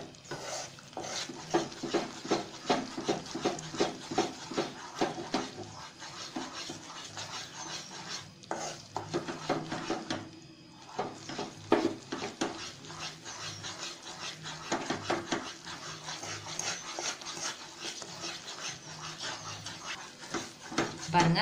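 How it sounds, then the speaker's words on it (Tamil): Gram flour and ghee for ghee Mysore pak being stirred in a pan, a steady run of rhythmic scraping and rubbing strokes close by that carries on for the whole stretch with only brief pauses. "கைவிடாமல் கிளறிட்டே இருங்க."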